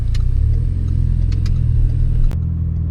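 Renault Mégane 3 RS with a six-speed gearbox accelerating on a test drive, its engine droning loud and close with a sharp shift partway through, heard inside the cabin.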